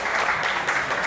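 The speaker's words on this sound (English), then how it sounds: "Applause there." A crowd claps steadily and briskly, a dense wash of hand claps with no voices on top.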